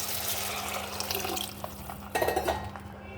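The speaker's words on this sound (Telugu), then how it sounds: "ఇప్పుడు ఇందులో ఈ నీళ్ళు వేసేస్తున్నాను." Water being poured into a chickpea flour chutney, a Bombay-style besan dish, while it is being mixed in a kitchen; a steady, close liquid stream runs throughout with a brief splashier burst near the end, and no one speaks.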